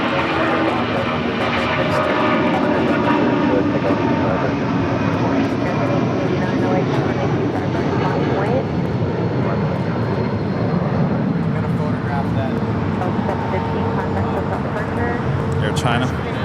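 A jet airliner passes on approach to LAX, a loud, steady broadband engine roar that fills the clip continuously, with faint radio chatter mixed underneath.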